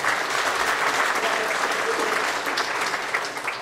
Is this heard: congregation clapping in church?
yes